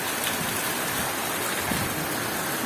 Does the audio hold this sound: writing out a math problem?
no